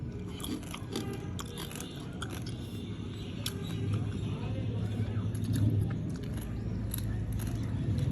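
Home-cooked freshwater crab being chewed and eaten, with soft close crunching and biting over a steady background hum, and occasional murmured voices.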